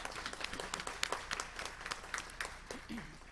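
Applause at a city council meeting, a moderate room of people clapping with distinct individual claps audible, fairly quiet and steady, with faint voices underneath.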